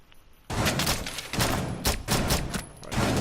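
Shotgun blasts tearing holes in a wall in Rainbow Six Siege, a loud run of rapid heavy shots and crashing debris starting abruptly after a quiet opening.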